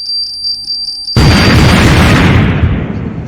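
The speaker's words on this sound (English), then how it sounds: "That was the sound of the first IED that blew in Bamenda" An IED explosion in Bamenda, Cameroon: a sudden, loud, broadband blast breaks in after about a second of a steady, high beeping tone, then a dense roaring rumble slowly decays over the next two seconds.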